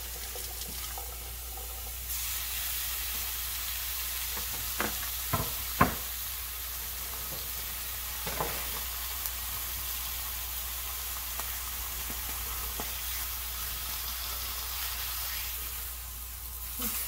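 Slices of sandwich meat sizzling in a hot pan, a steady low frying hiss running throughout with a few sharp clicks and taps of a utensil against the pan near the middle.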